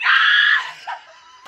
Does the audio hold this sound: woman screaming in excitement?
yes